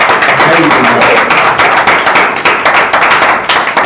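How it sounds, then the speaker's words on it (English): Loud, dense applause from a livestream audience celebrating Sam, sustained and crackling throughout with no talk over it. "one more huge round of applause for Sam."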